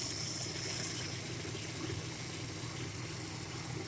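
A stock 2.9 liter V6 in a 1989 Ford Ranger pickup idles with sticky lifters, giving a steady, low rumble with a faint, fast ticking running through it, heard close up and unchanged throughout.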